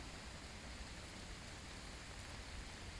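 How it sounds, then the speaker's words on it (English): Steady rain hisses evenly throughout, a constant wash of falling water with no other sounds standing out. "the rain is quite bad"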